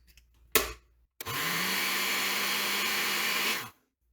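A kitchen blender whirs in one loud, continuous burst of about two and a half seconds as it purées mango pulp with sugar for a mango mousse. It starts abruptly and stops cleanly after a short knock just before it begins.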